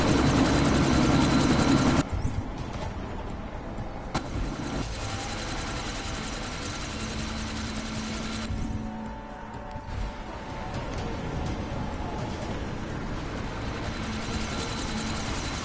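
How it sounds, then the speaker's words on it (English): A helicopter in the video game Deus Ex: Mankind Divided idles before takeoff, its engine and rotor drone loud and steady throughout, with a shift in tone partway through and no talk over it. "That chopper's about to take off!"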